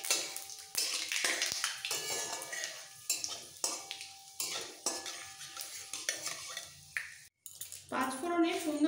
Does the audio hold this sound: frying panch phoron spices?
yes